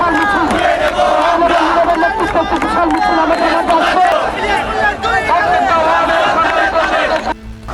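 A dense protest crowd of Chhatra Dal, Jubo Dal and Sramik Dal activists in Pallabi, Mirpur, Dhaka, chants and shouts slogans loudly and continuously, a roaring mass of voices that stays close and steady before thinning at the very end.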